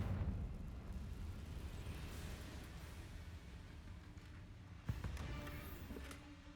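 An explosion from the Confringo fire spell in the game Hogwarts Legacy bursts sharply near the middle over a steady rumbling background of game sound, followed by fainter ringing tones.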